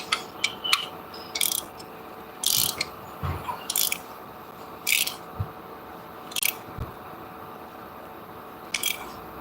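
A ratchet fitted with a short socket turns bolts while a car starter is being replaced, giving several short bursts of rapid metallic clicking separated by pauses, close by and with no talk.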